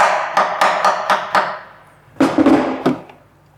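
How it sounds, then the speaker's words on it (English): Hammer blows on the corners of a seized nut on a used 4x4 part: a quick series of five sharp metallic strikes, a pause, then three or four more close, loud hits with short ringing decays. "If you just took a hammer and you smack it on the corners"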